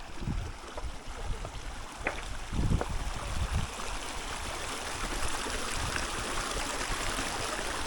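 The Salgi river flows where it meets the Narmada, a steady broadband rush of water with a few soft knocks and splashes, continuous and moderately loud.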